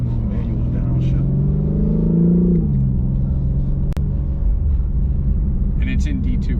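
The engine of a BMW G82 M4 Competition swells in pitch, then drops sharply during a manual downshift and settles into a steady, deep cabin rumble, with a voice speaking over the drone.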